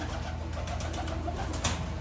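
A racing homer pigeon coos softly nearby in a steady murmur, with a faint rustle near the end and no talking.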